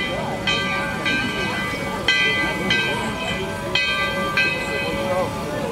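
A steam train in Santa Lucia, Cuba, rumbles steadily with a rhythmic chuffing and a faint whistling tone over the top, heard from nearby in a continuous run.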